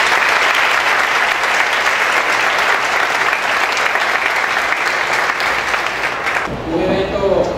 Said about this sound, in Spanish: quiero de antemano pues brindarle un fuerte aplauso a estos médicos